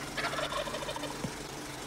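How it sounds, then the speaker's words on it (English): Wild turkey gobbling close by outdoors, a quick rattling burst of calls over a steady low background hum, no voices. "The wild turkey is a curious bird"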